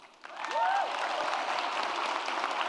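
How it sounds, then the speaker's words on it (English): Audience applause for a graduating class at an annual Black Celebratory event, a steady wash of many hands clapping at moderate distance with a brief whistle near the start, sustained evenly to the end. "please give yourself a round of applause for this outstanding achievement"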